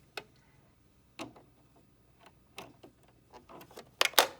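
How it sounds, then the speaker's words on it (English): A screwdriver loosens the needle clamp screw on a sewing machine, giving a few sparse, faint metallic ticks and clicks spread out over a few seconds, ending in a brighter cluster of clicks. "you don't have to unscrew it all the way, just enough so the needle slides out, like that"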